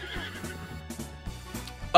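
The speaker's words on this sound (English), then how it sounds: "It's a pink horse, a pink spotted horse." A pink spotted horse neighs in Zelda: Breath of the Wild, a short whinny with clip-clopping hooves in a steady rhythm, fairly close and clear with no talking.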